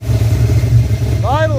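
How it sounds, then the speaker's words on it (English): A car engine fitted with an Edelbrock carburetor idles after a restart, a loud, steady low rumble close by, with a voice speaking briefly near the end. "it's idling and running normally now"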